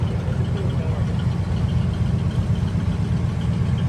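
Engine of a 1979 AMC Spirit AMX with 61k miles and dual exhaust idling, a steady, low rumbling drone that holds an even level throughout with no change in pace.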